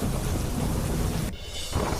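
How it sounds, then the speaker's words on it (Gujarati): Rain falls steadily under dark, heavy clouds in Ramgarh, Jharkhand, with a dense low rumble of thunder throughout and a brief dip in the downpour before it resumes. "ઝારખંડના રામગઢમાં કાળા ડિબાંગ વાદળો વચ્ચે શરૂ થયો વરસાદ"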